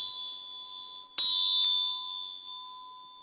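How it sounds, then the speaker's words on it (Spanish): Two clear bell strikes ring out about half a second apart over a sustained high tone, each with a bright metallic attack and lingering ring. "los sonidos de campanas que se usan antes de rezar o con cantos"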